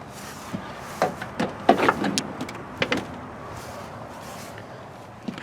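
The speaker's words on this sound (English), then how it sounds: "And let's open the back door." A car's back door opening nearby in a quiet space: a few sharp clicks and thuds from the latch and panel, clustered over about two seconds, then soft rustling and one last small knock.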